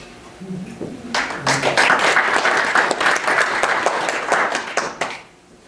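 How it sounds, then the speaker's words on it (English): Audience applause at a history museum lecture on the military railway service, starting after a brief voice and swelling into sustained, dense clapping that fades near the end. "You may want to hold the applause till after we present."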